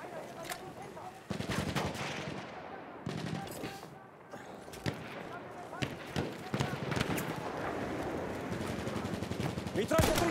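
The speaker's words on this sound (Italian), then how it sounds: "Mitragliatrice nemica localizzata!" Enemy machine gun fire in the first-person shooter Battlefield 1 on Monte Grappa: dense bursts of rapid automatic gunfire and scattered rifle shots, loud and continuous across the battlefield, with voices calling out.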